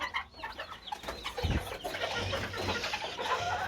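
Chickens clucking inside a backyard coop where chicks are also feeding, a steady close chorus of soft clucks and scratchy calls with one louder burst partway through, no talking.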